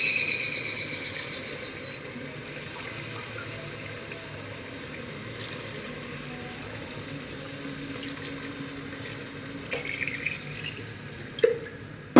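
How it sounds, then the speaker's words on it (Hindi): Water streams steadily into a cooking pot for a curry in a home kitchen, a soft continuous pour with a few clinks of utensils near the end. "अब हम इसमें पानी डाल देंगे।"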